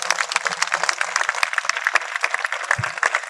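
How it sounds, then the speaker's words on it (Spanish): A church congregation claps together during a sermon, dense and continuous rapid applause filling the space at steady loudness, with no talk on top. "Si usted quiere darle fuertes palmas, dale."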